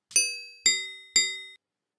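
Three bright bell dings strike in an even rhythm about half a second apart, each ringing out and decaying before the next, loud and clear against silence.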